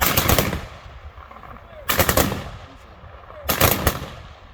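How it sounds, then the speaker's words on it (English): Three loud rifle volleys fired by an American Legion Post 28 honor guard as a military salute at a dedication ceremony, each a rippling burst of near-simultaneous shots echoing outdoors, spaced about a second and a half apart. "the American Legion Post number 28 will fire the military custom salute"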